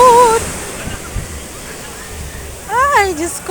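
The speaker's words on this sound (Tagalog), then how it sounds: "Ay, Diyos ko, kakatakot ng alon." Strong ocean waves at Stanley, a broad steady wash and rumble of surf with wind buffeting the microphone, under excited voices that come at the start and again near the end.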